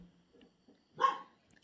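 A village dog gives a single short bark, fairly close but not loud, against quiet background with faint scattered sounds before and after.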